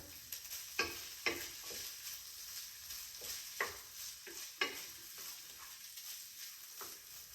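Rice stir-fried in hot oil with vegetables: a steady sizzle with repeated scraping and tapping strokes of a spatula breaking up clumps in the pan, close and moderately loud, with no talking.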